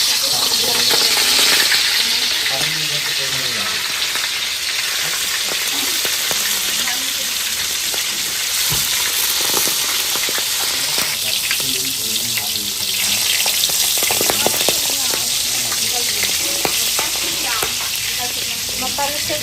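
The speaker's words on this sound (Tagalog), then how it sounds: "Prito guys, piprito tayo." Clams (lukan) frying for sisig on a terrace: loud, steady sizzling and crackling oil throughout, with occasional stirring and scraping in the pan.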